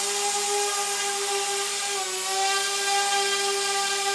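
A DJI Spark drone lifts off and hovers indoors, its propellers giving a steady, close, high-pitched whine with stable harmonic tones that dip slightly in pitch midway, running continuously with no talk.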